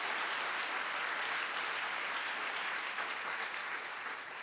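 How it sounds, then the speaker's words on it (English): An auditorium audience at a college talk by Isabel Allende breaks into steady, even applause that holds throughout at moderate loudness. "Let me hear an applause for that."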